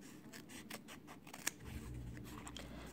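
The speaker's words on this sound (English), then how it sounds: "I can carefully fold my foam in half and kind of add a small slit, and I can use that to help me cut out the inside of my letters." Scissors snip through thin craft foam to cut collagraph printing letters, a series of faint, quick close-up cuts and rustles in a quiet room.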